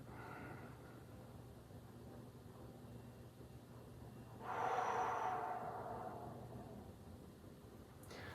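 A single deep inhalation during a slow neck stretch, tilting the ear upward, rises as a soft airy swell midway through and fades, heard close over a low steady background hum.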